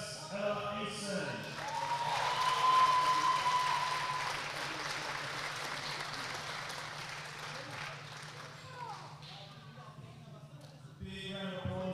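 Crowd applause at a youth climbing championship podium ceremony, a broad wash of clapping swelling early then holding steady, with some voices and a tone briefly heard over it.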